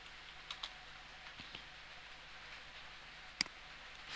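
Someone types on a computer keyboard while editing video effects. A handful of faint, sparse key clicks sound over a quiet background.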